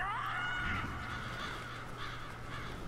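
Crows caw in the GameCube game Billy Hatcher and the Giant Egg, a steady, fairly loud cawing over a constant low game hum for the whole stretch.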